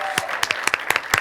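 Scattered handclaps from an audience at an award ceremony, sounding as sharp, uneven claps that are fairly close, with a voice briefly audible beneath them.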